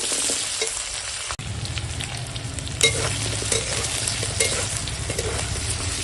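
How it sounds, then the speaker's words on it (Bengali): Pumpkin and potato pieces fry with ginger-garlic paste in hot oil, a loud, close, continuous sizzle broken by a sharp clatter and scraping stirring strokes. "আর দিয়ে দেবো কেটে রাখা কুমড়ো আর আলু দিয়ে এখন সব একসঙ্গে ভাজবো"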